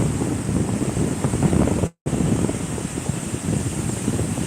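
Sea waves washing in at Shankarpur beach, a steady broad roar of surf mixed with wind buffeting the microphone, continuous and fairly loud apart from a momentary dropout.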